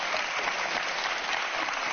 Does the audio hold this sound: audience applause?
yes